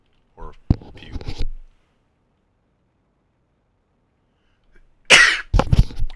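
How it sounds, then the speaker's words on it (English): One sharp, loud sneeze bursts out near the end, after an earlier brief stretch of soft voice and a long silence, with a little breathy noise following. "I don't know what that's up with the sneezing."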